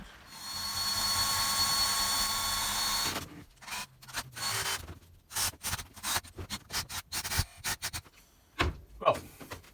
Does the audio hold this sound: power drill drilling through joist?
yes